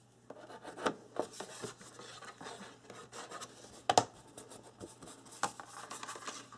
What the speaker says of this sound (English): Burnish the edge some.